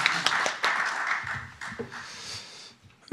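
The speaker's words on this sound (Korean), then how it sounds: "모두 박수로 김용호 원장님을 맞아주시길 바랍니다." Sparse applause from attendees at an academic conference opening ceremony, a handful of scattered claps rising and thinning over a few seconds with faint room murmur beneath.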